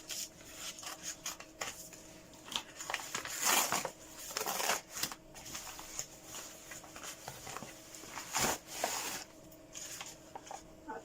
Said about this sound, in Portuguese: Tenho aqui a tesourinha. Ter cuidado aqui ao cortar